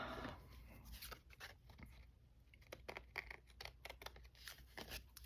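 Scissors trimming small paper craft tags, a series of close, quiet snips and crisp paper rustles in an irregular rhythm, with no speech.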